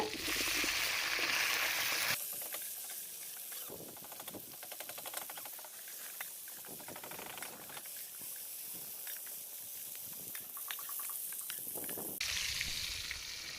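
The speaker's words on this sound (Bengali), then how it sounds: "বাকি কপিটা সেমভাবে ভেজে নেব" Cauliflower florets frying in hot oil for a catla fish and cauliflower dish, a steady broadband sizzle with louder hissing bursts at the start and end and softer crackling spatter in between, close up with no talk.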